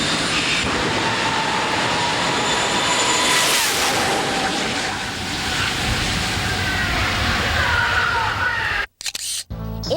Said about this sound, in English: the girls stood with the starter between the two jet cars as they raced